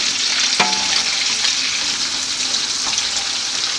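Onions fry in hot oil for a Nigerian-style egg sauce, a steady close sizzle with a few stirring scrapes and no talk.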